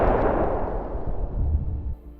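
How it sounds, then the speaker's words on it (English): A bomb dropped by a drone onto soldiers' hiding spot in the war in Ukraine bursts with a sudden loud blast, its deep rumble rolling and fading over about two seconds, no voices. "The Ukrainian drone drops a bomb directly onto their hiding spot."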